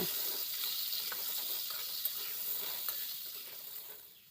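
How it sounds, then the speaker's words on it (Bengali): Pointed gourd (potol) fries in oil with salt and turmeric, giving a steady, fairly quiet hiss of sizzling with a few soft stirring clicks throughout. "এখন লবণটা দিয়ে পটলটাকে খুব ভালো করে ভেজে নেব"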